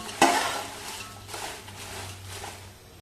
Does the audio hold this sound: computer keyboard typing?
no